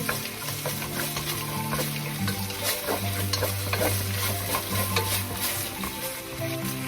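Pork stir-fried in a hot pan for a Thai rad na dish, with steady sizzling and repeated scraping of a spatula against the pan, close up and with no talk.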